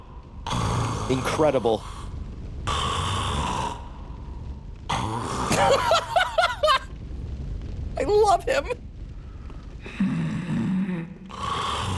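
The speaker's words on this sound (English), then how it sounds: "Why does he snore so loud?" Siegward, the knight in Dark Souls 3, snoring loudly in repeated long rumbling breaths separated by short pauses, with a player's voice speaking between the snores.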